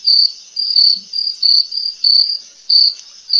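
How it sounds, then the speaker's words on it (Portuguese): A cricket chirps in steady repeated pulses of shrill, high trilling, close and clear, with brief gaps between bursts and nothing else heard. "É um grilo"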